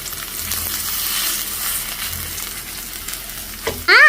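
Bora fritters frying in a pan crackle and sizzle steadily at close range, with a short clatter near the end as something is moved, and no voices.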